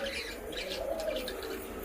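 Many caged birds, including budgerigars, parrots and mynas, call together in a bird shop, a dense steady chatter of chirps and coos with no pauses, fairly close and moderately loud.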